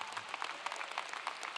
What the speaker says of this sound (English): We can applaud.